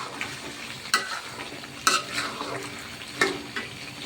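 Beef and potato pieces being stirred and sautéed in a pan, with a steady sizzle and several sharp scrapes of a utensil against the pan.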